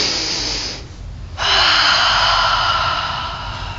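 A deep, slow breath drawn in through the nose, loud and close, a long airy inhale broken by a short pause before continuing.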